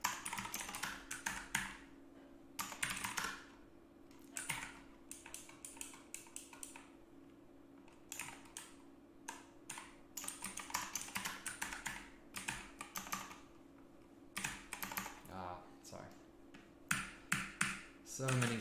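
Rapid clacking keystrokes on an Ergodox mechanical computer keyboard come in bursts and pauses over a low steady hum, with a person talking intermittently.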